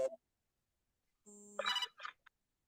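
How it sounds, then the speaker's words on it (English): A telephone rings with an incoming call: a short steady electronic ringtone, then a busier warbling burst and a few quick fading chirps, against near silence. "I just got a phone call and I have to take."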